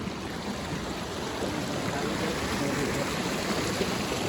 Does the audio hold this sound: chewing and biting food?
no